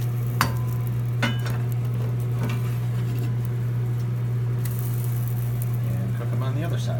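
Pancakes frying in a pan lightly oiled with olive oil just after being flipped, a soft steady sizzle with a few light clicks and scrapes, plus a constant low electrical hum underneath.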